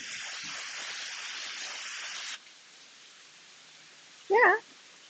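Rain falling outside, a loud steady hiss that abruptly drops to a fainter patter, followed near the end by a short cat meow.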